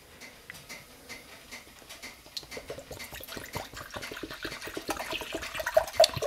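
Apple cider vinegar pours steadily into a pickled watermelon rind brine, a continuous close trickle and splash that grows gradually louder and denser toward the end, with no voices.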